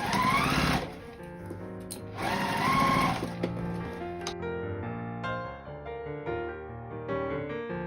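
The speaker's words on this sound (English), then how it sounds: "let's stitch around the edges." A sewing machine stitches around the edges of a zipper pouch in two loud, steady whirring runs separated by a brief pause, then goes quiet as soft music plays on.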